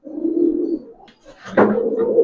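A silver-line pigeon coos close by, one long low coo followed by a brief pause and a second rising, throaty coo.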